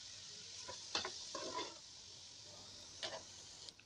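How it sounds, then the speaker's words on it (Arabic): Two grated onions stirred in butter or ghee in a pan, soft scraping strokes of the spoon over a low steady sizzle, quiet and close with a few brief knocks. "وهننزل بالبصل ببصلتين مبشورين وهنقلب"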